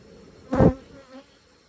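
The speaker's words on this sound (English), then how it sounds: "But look at all the bees." Honey bees at an open beehive on a hobby farm give a single short, close buzz that swells and fades within a moment, with a fainter trace afterward and no talking.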